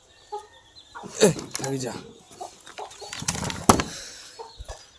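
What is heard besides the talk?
chickens clucking outside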